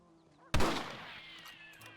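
A single sharp rifle shot in the Red Dead Redemption video game, a loud crack followed by a long, fading ringing tail, with no talk over it.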